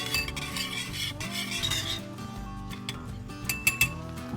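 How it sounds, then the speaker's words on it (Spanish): Beef rib marinade with maple syrup is mixed in a bowl, with close wet stirring, scraping utensil sounds and a few sharp clinks against the bowl toward the end. "ahora vamos a mezclar muy bien"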